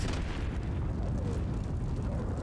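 A loud, sustained explosion from the action game Just Cause 3 fills a short burst of rumbling, crackling blast noise that dominates without talk.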